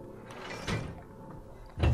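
A door opening in the Alien Isolation video game, heard as a short mechanical whoosh and clunk, then a second louder thud a moment later, set against a faint hum with no talking.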